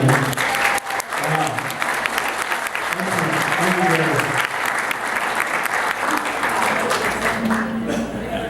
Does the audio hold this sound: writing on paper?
no